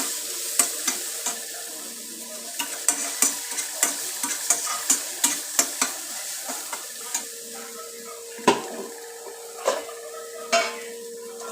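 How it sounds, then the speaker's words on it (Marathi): Ground masala paste sautés in a little oil for samosa filling, a steady close sizzle broken by repeated clicking scrapes of a spoon stirring against the pan, with no talking. "आपलं वाटण छान परतलं ना मी थोड्या तेलामध्ये परता लागलेले"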